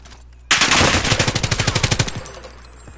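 A loud, close burst of automatic gunfire from Call of Duty Warzone fires roughly twenty rapid rounds in about a second and a half, then tails off into a fading echo.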